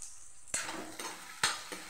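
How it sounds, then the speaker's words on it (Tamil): Black pepper, cumin, fennel, dried red chillies and poppy seeds roast in a pan for a baby jackfruit gravy, with a soft, faint sizzle and a few distinct scraping stirs of a spoon. "மிளகு, ஜீரகம், சோம்பு, வரமிளகாய் எல்லாத்தையும் போட்டுக்கலாம்."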